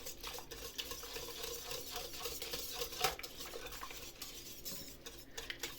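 Eggs being mixed in a bowl for poppy seed rolls, a soft, continuous stirring and scraping with small clinks, close and fairly quiet.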